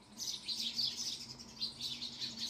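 House sparrows chirp in a busy, repeated chatter of short tweets, fairly close and clear, with pulses of calls rising and falling over a faint background hum.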